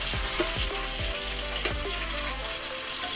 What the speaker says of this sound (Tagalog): Tanggalin muna natin yung mantika ng fried chicken natin